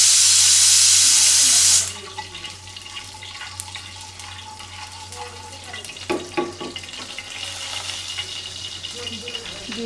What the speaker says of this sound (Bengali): দেখতেছি পানি চালু করে দিল, আবার মোটর চালু হয়েছে